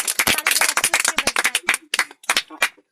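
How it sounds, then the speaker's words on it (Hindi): A group of students claps after a speech, a dense burst of applause that continues for a few seconds and trails off into a few scattered claps. "ताली बजाएं"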